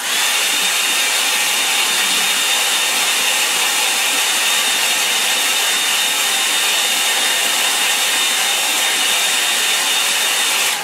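A hair dryer blows continuously to dry paint, a loud, steady, close whoosh of air and motor hum that holds unchanged throughout with no voices.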